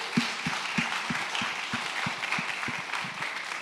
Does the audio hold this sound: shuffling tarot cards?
no